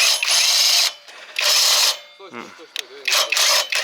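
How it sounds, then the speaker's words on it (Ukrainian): A nut is unscrewed by a mechanism that gives off long, loud ratcheting mechanical rasps. Three or four bursts are separated by short pauses, with a brief voice between them. "Гайка відкручується."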